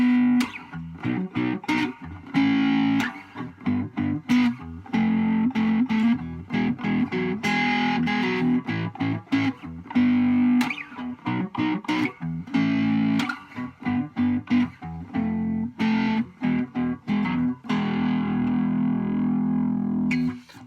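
A cigar box guitar tuned EBE played through an amp with gain distortion: choppy, rhythmic riffing of plucked, driven notes and chords with abrupt starts and stops, loud and up close, no talking.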